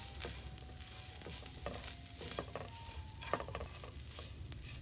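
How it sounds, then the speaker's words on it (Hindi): Herbs, cumin seeds and crushed coriander being stirred together in a pan of hot oil, with a soft steady sizzle and scattered scraping strokes of the spoon throughout. "अब इसको हम अच्छे से मिक्स कर लेंगे पहले"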